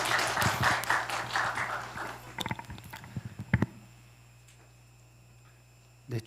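Audience applause at a university performance forum, following a university president's congratulatory address; a dense burst of clapping opens loud, then thins into scattered claps and dies away, with a short noise returning at the end.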